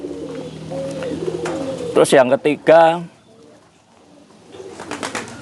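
Racing pigeons coo and call near a loft perch while someone speaks over them. Low, rounded coos run under his talk, then a few louder, sharper calls stand out briefly before quieter sounds near the end.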